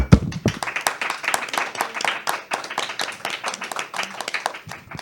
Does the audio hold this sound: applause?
yes